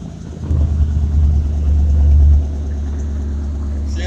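1967 Ford 350 truck with a 302 V8 being started after sitting, a loud low rumble that swells for about two seconds then settles into a steady idle.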